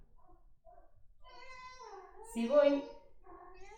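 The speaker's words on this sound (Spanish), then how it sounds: "tengo un gato que me está maullando" A house cat meows a few times close by in a quiet room, the calls rising and falling, with someone speaking Spanish briefly around them.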